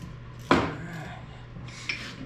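A single sharp metallic clank from a bolt being worked loose on a 1968 Chrysler Newport with a 383 engine. A second, lighter tap follows a moment later against a quiet garage background.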